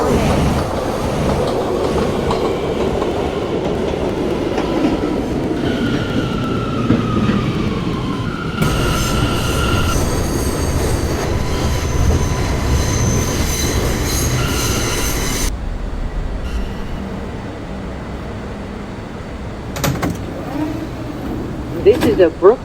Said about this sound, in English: This is a Brooklyn-bound M local train.